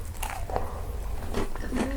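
Close-up crunching as a crisp ginger scone with crunchy bits of ginger nut is bitten and chewed, a few sharp crunches over a low rumble.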